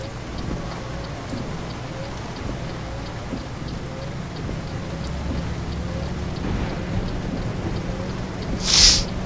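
Rain falling during a drive in the truck driving game Euro Truck Simulator 2, a steady patter of drops with low rumbling thunder beneath and a brief louder burst near the end.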